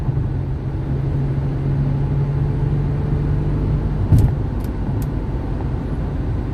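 Steady low road and engine rumble inside a car cruising at highway speed around 60 to 70 miles per hour, constant and calm with no talk, broken once by a few brief faint ticks.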